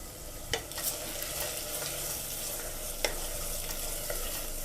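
Coriander leaves sautéed in a pan for mutton dum biryani: a steady sizzle runs throughout, broken by a few sharp scrapes and clinks of a spatula stirring against the pan.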